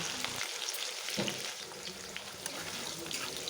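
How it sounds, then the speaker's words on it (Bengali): Tomatoes and potatoes fry together in oil, a soft steady sizzle up close broken by a few light scrapes and clicks of stirring. "তখন দিয়ে দিচ্ছি টমেটো দিয়ে একটু ভাজা ভাজা করে দেব।"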